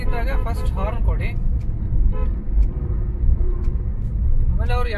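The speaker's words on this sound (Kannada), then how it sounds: "ಈ ರೀತಿ ಇದ್ದಾಗ ಫಸ್ಟ್ ಹಾರ್ನ್ ಕೊಡಿ" A car horn tooting on a road during a driving lesson about overtaking, short honks over steady engine and traffic rumble inside the car, with someone talking at the start and end.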